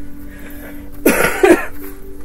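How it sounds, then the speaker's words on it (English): A person gives a dry cough, two short, harsh bursts close to the microphone, against a quiet background hum. "Pardon me, I still got that dry cough going on."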